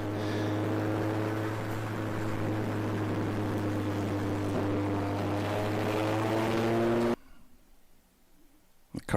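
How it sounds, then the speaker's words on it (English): An endurance race car at the ChampCar Endurance Series Pittsburgh Grand Prix roars steadily past, a sustained loud engine drone with a strong low hum that cuts off abruptly, leaving faint background noise. "The car's coming through turn 4 there."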